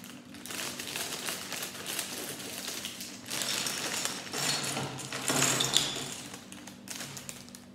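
A plastic Lego bag is torn open with crinkling, followed by small plastic pieces rattling and clicking as they spill out, close and moderately quiet.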